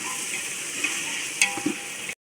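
Green chillies are tossed into a hot frying pan for fish biryani, giving a close, steady sizzle of oil with a few light stirring knocks. It lasts about two seconds and ends abruptly, with no speech.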